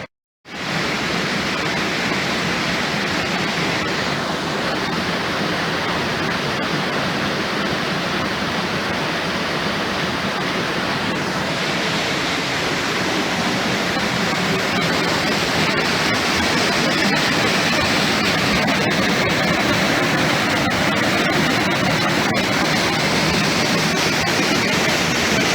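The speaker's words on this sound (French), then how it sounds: "On a une super cascade." A waterfall on a hiking trail in Guatemala's Nebaj region roars as a loud, unbroken rush of water that continues steadily from start to finish.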